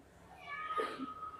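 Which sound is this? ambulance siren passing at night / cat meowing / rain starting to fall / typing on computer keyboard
cat meowing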